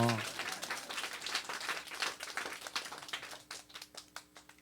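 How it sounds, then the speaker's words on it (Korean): A church congregation claps during a sermon, a dense burst of applause that thins into scattered, separate claps as it fades, with a voice speaking at the start. "박수 해주세요."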